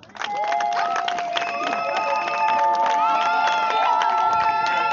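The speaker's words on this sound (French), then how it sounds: "je souhaite qu'on applaudisse pour vous très fort." Wedding guests applaud and cheer in a lively crowd, with shouts, whistles and high voices layered over steady clapping that stays loud and continuous throughout.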